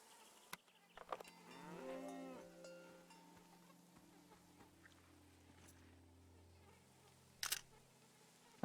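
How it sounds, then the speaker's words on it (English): A cow lets out a single drawn-out moo close by, rising and then fading, against a quiet farm background with insect buzzing and a few scattered clicks. "Can I record the sound of the cow?"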